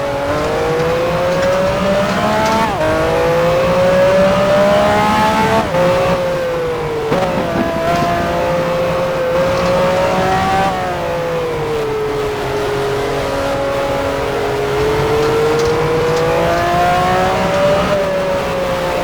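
A 1969-era Formula One car in the F1 Challenge racing game drives into the pit lane at Montjuïc in the rain, its engine droning loud and steady, with the pitch rising and falling as it shifts gears.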